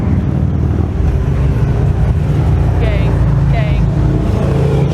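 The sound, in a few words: group of motorcycles riding down the street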